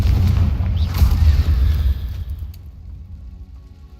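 A Confringo blasting spell explosion in the video game Hogwarts Legacy: a loud, deep booming blast that rumbles heavily for about two seconds, then fades into a quieter decaying tail.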